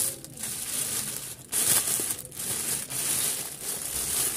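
A plastic bag crumpled and crinkled up close, a continuous rustling crackle with brief pauses and renewed bursts, no talking.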